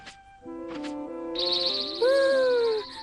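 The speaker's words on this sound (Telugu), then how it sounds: "బర్డ్ సౌండ్ కూడా నాకు భలే వినిపిస్తోంది" Chirping and whistling bird calls sound in a Doraemon cartoon scene, tonal tweets and a sliding whistle rising over a soft musical backdrop, clear and close with no talking.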